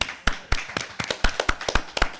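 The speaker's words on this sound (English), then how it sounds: "So you should applaud for yourselves," Sparse, separate claps from a small audience after a panel discussion on history preservation and public engagement, about a dozen sharp hand claps spread unevenly over two seconds, fairly close and without voices.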